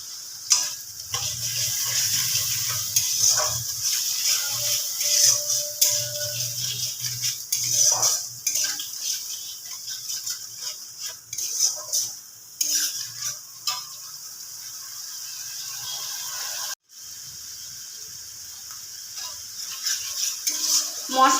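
Spice masala sautéed in a pan for a chickpea breakfast dish: a soft continuous sizzle under repeated scraping and clinking of a spoon against the metal, with a brief break partway through.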